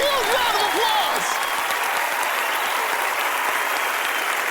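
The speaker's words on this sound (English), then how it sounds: "Give her a huge round of applause!" A studio audience at the magic show Penn & Teller: Fool Us breaks into loud, sustained applause and cheering that holds steady throughout, with a brief shout near the start.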